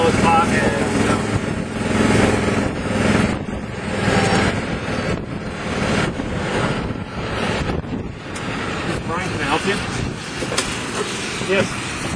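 Strong wind on a seaside golf course at Sandals Emerald Bay buffets the microphone in loud, uneven rumbling gusts throughout, with people talking underneath.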